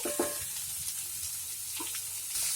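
Bottle gourd (ghiya) bhujiya cooks in a pan with a constant frying sizzle, while a spoon stirs through it in a few scraping strokes, close and steady, without speech.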